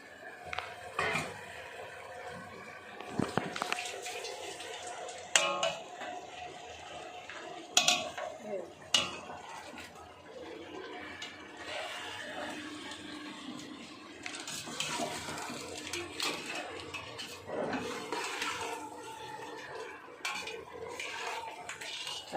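A metal spoon scrapes and clanks against a pan as chicken is stirred and sautéed for biryani, with intermittent knocks over a soft sizzle while a voice talks throughout.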